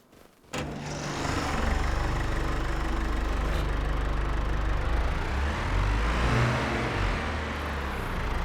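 A steady tractor engine in Farming Simulator 25 drones at a low idle-like pitch, starting abruptly after a brief quiet moment and holding constant throughout.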